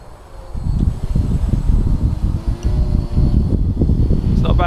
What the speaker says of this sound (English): it is actually quite windy today.